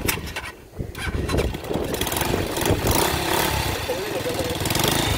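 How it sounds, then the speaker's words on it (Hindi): A motorcycle stuck in mud revs hard and steadily, its engine noise loud and continuous from the opening second through the end, with a brief dip near the start. "ये भाई इनकी बाइक फंस गई है मिट्टी में, निकल ही नहीं रही,"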